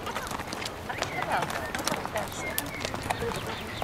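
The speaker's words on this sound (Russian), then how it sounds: "У нас Юля катается на лошадке." Horse hooves clopping on a mountain trail during a guided horseback ride near Yalta, a steady irregular patter under outdoor ambience, with people chattering excitedly over it throughout.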